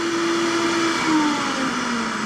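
A Vitamix knock-off blender base motor runs steadily with a continuous hum and whir. It stays at an even level from start to finish, with no talking over it.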